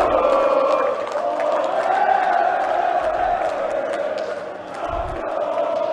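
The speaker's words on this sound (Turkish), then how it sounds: "Şampiyon Çorum Tezahüratları" Çorum football supporters chanting in the stadium, a sustained mass of voices in rhythmic unison, crowd-wide and moderately distant, rising and falling slightly over several seconds.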